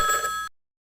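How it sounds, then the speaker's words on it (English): A telephone rings once in Arthur's Computer Adventure, a bright electronic bell tone lasting about half a second and then cutting off cleanly to silence. "Just then, the phone rang."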